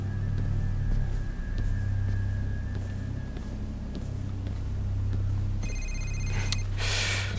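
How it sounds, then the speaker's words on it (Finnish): A telephone rings in the horror game Condemned: Criminal Origins, a shrill bell burst over a steady low engine-like rumble and droning game ambience, no one speaking. "Vitun puhelin."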